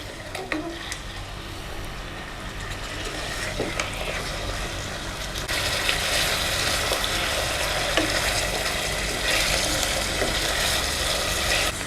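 Mutton pieces frying with onion in a hot pan, a steady loud sizzle with stirring scrapes and crackles that grow stronger partway through, no talk.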